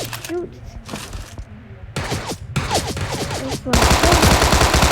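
Rapid bursts of minigun fire in the video game Sausage Man, loud and sustained toward the end, over game sounds with people talking excitedly.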